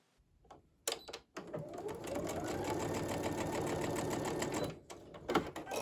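A sewing machine stitches quilt fabric for a courthouse steps quilt block, starting with a few short bursts and then running in a steady, close, whirring rattle before slowing and stopping with brief clicks.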